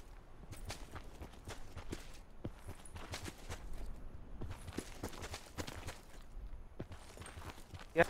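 Footsteps in Call of Duty Black Ops 4 Blackout, a steady run of quiet, fairly distant steps over faint game ambience, with no talking.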